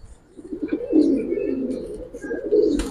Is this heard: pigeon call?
yes